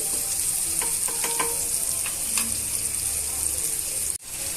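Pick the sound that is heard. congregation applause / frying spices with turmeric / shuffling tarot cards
frying spices with turmeric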